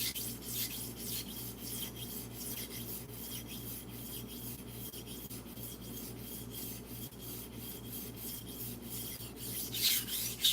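A kitchen knife that had never been sharpened before is stroked along a whetstone in a steady, continuous rasping rub, with rhythmic repeated passes at close range and no talking.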